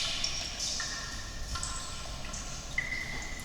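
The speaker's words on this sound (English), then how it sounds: "And it's just like raindrops dropping in a cave and stuff." Foley raindrops dripping in a cave, used as an atmospheric layer in a beat: scattered high, bright plinks and droplet pings ring out one after another over a steady hiss, with no voices.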